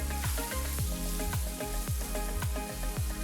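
Onion, garlic, cashews and mustard seeds with hing sauté in a pan, a steady sizzle sitting under rhythmic background music with a thumping beat.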